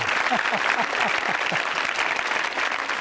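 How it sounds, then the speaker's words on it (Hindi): An audience at a college quiz show in Ajmer claps loudly and steadily while a host's voice rises briefly over the applause. "तालियां बजाइए जोरों से"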